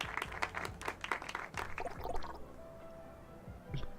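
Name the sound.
sparse audience clapping in the video game Loverwatch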